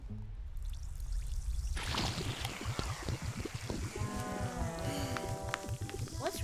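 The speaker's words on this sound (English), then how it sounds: "Now watch what happens when I add vinegar." Vinegar poured into a clay volcano filled with baking soda makes a gurgling, splashing pour that turns into fizzing, close and fairly loud, with tonal voices or music rising alongside it near the end.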